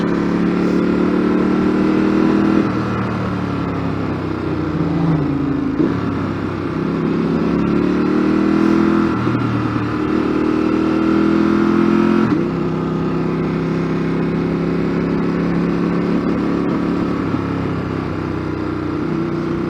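A motorcycle with a quick shifter rides the Snake Pass toward Glossop, its engine droning steadily and loud throughout with shifting pitch as gears change, no voices over it.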